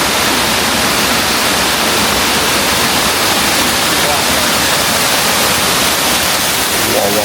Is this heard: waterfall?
yes